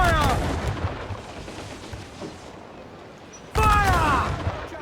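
Ship cannons in Assassin's Creed IV: Black Flag fire in loud, booming bursts, first at the start and again near the end, with shouted crew voices over a low rumble between the volleys.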